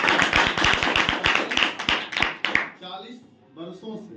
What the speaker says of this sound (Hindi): अब चाहे सर के लिए एक बार जोरदार ताली हो जाए